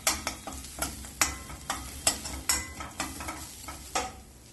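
Tomatoes with Mexican seasoning are stirred and sautéed in a pan. A spoon scrapes at a regular pace, about twice a second, over a soft, steady sizzle close by.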